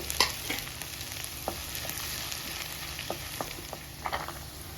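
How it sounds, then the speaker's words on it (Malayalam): Chopped ginger frying in hot sesame oil with crackling mustard seeds and fenugreek, a steady close sizzle punctuated by sharp pops and a few spoon taps against the pan. "നല്ലെണ്ണ ചൂടായി വരുമ്പോൾ കുറച്ച് കടുക്, കുറച്ച് ഉലുവ ഇട്ട് പൊട്ടുമ്പോൾ ആദ്യം നമ്മൾ ഇഞ്ചി ഇടുക."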